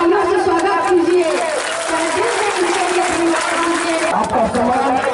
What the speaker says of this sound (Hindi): मुकेश भाई को जोरदार तालियों से स्वागत कीजिए